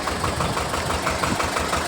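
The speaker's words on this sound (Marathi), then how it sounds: "मूग आणण्यासाठी ट्रॅक्टर घेऊन चालले होते तरी त्यांच्या शेतामध्ये ट्रॅक्टर फसला आहे" A tractor engine runs steadily with a low, knocking chug while the tractor sits stuck in a muddy field, close and continuous with no talk.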